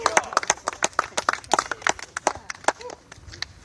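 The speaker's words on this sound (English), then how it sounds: "round of applause for Riley" A small outdoor crowd at Historic Fort Erie claps in scattered, uneven hands, loud and close at first, then thinning out while a few voices carry underneath.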